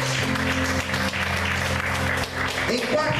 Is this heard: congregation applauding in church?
yes